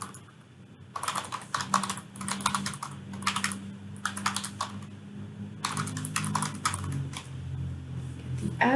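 Rapid keystrokes on a computer keyboard in bursts of clicking and tapping, close and clear, with brief pauses between runs as an address is entered into a form.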